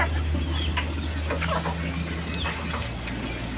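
Rhode Island hens clucking at a poultry coop, a few soft, irregular clucks over steady low farm background hum, moderately close with no talking.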